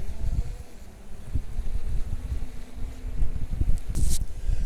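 Very strong wind buffets and roars across the microphone during a Mavic 2 Pro drone flight outdoors near an oak tree, loud and continuous with gusting swells and no talk.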